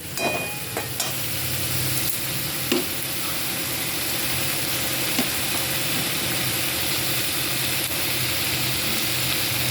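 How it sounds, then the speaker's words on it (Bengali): A paste of ground cumin, coriander, ginger and green chili fries in hot oil with a loud, continuous sizzle, with occasional light clicks of a utensil in the pan, close up and with no voices. "এবার আমি বেটে রাখা মশলাটা এর মধ্যে দিয়ে দেব"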